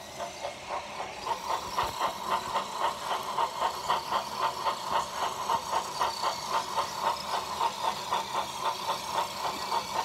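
A motorized custom Thomas toy train with a recreated wheel taped on runs with a steady, rapid rhythmic clicking and whirring close up, regular beats repeating throughout under a faint hiss.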